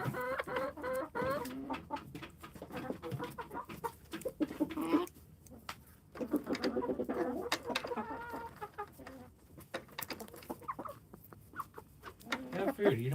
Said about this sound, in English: Chicken Bella, please get away from the camera. You're blocking the view.